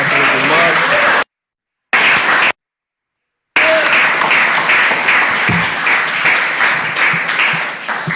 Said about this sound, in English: let's give Brother Rodney a round of applause for his remarks